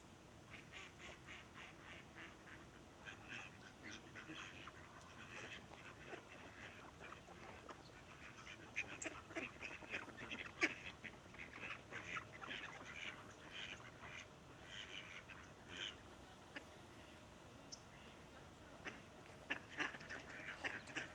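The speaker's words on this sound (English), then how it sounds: "These ducks are all mallard ducks." Mallard ducks quack repeatedly near water, a scattered chorus of mid-distance calls over soft outdoor ambience, growing louder and busier in the second half.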